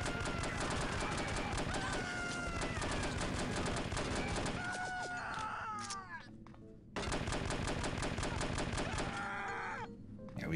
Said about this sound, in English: Firing in bursts is generally still better than just firing outright.